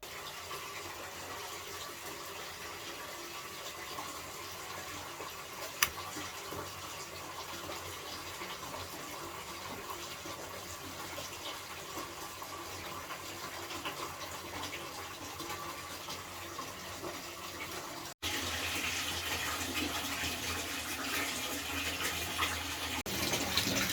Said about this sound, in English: go and run a bath